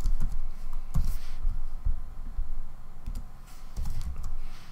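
Code is typed on a computer keyboard in short, uneven bursts of close clicking keystrokes with brief pauses, and no voice is heard.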